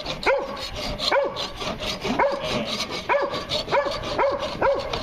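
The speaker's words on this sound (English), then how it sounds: "the dog won't shut up." Dog barking repeatedly at a steady pace, about seven sharp barks spaced under a second apart, moderately near, over a constant background of rubbing or scrubbing noise.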